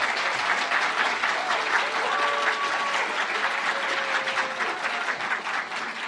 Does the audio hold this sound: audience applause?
yes